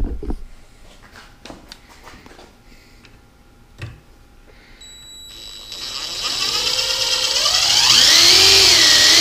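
A few scattered clicks and taps, then an electric drill spins up into a loud, steady whir close by that holds to the end, drilling into a trailer deck.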